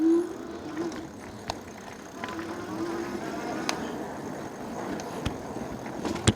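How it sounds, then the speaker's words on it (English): An ENGWE L16 fat-tire electric bike with front suspension rolls over a bumpy park trail, giving a steady rough rumble with scattered rattles and sharp knocks from the terrain, continuous and fairly close throughout. "I'm going to take it down this trail and into the park. It's pretty bumpy"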